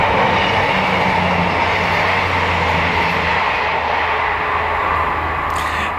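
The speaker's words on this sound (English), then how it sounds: "Here's the train again, in case you missed that." A train rumbles past at close range in the Peak District, a steady loud roll of wheels over rails with clickety-clack and a low continuous drone that fades slightly toward the end, with no talking.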